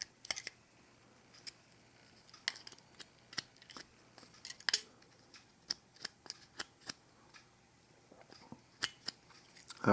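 Scissors trimming material for an Altoids tin box mod, a string of crisp, close snips at uneven intervals over a quiet background, with a louder knock at the very end.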